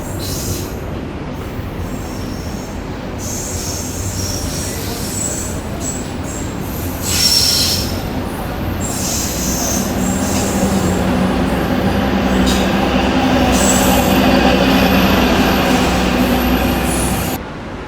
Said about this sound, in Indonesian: kereta api Logawa diberangkatkan dari stasiun Surabaya Gubeng, tujuan akhir stasiun Purwokerto